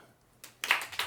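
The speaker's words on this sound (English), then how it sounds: "If the live audience could clap." Live studio audience at a developer Q&A giving a brief smattering of claps, a few sharp hand claps in about one second.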